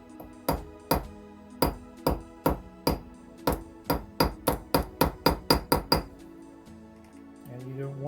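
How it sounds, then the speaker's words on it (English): A metal pin is hammered into the bone handle scale of a 1930s Clauss knife under restoration, giving about twenty sharp ringing hammer taps in a quickening, steady rhythm, followed by softer handling sounds. "Now, I'm going to hammer this pin."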